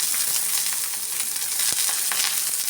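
Mint leaves sizzling steadily in hot oil within a mutton curry masala, a dense continuous crackle close to the pan, with a couple of faint stirring knocks and no talking.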